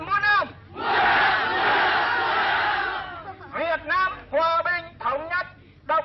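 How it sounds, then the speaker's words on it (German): Dam workers at Ha Tinh in North Vietnam chant and cheer en masse for Ho Chi Minh's victory, a long sustained roar of many voices followed by rhythmic, repeated shouted cheers, loud and near. "Die Dammbauer von Ha Tinh feierten den Sieg Ho Chi Minhs und brachten Hochrufe auf den Bestand der nordvietnamesischen Volksrepublik aus."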